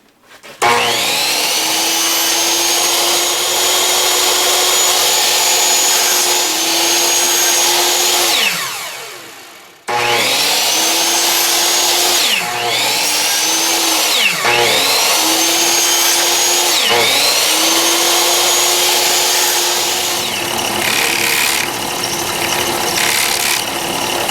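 Power saw cutting wooden dowels to length for cabinet frame joints, three loud sustained cuts with the motor whining down between them, close and clear with no talking.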